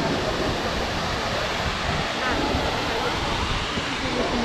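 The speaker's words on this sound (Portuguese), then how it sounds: "Essa daqui é a cachoeira Véu das Noivas." The Véu das Noivas waterfall in Poços de Caldas rushing steadily, a broad, even roar of falling water heard from a viewpoint with some wind noise mixed in.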